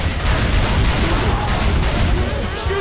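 Dense continuous gunfire in Left 4 Dead 2, several weapons shooting at the Tank on the Hard Rain map, loud rapid bursts blending into a constant roar with a voice partly under it.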